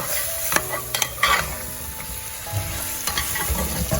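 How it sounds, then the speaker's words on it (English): Mutton mixed with dry spices in a pressure cooker pot, a spoon clanking and scraping a few times against the metal over a constant close sizzle. "After adding the dry ingredients, give it a very good mix."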